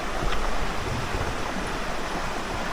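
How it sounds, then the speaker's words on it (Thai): Sai Thong Waterfall in Nakhon Nayok, Thailand, gives a constant, dense rush of falling water, loud and close, with no talking over it. "เขาเรียกที่นี่เป็น น้ำตกสายทอง"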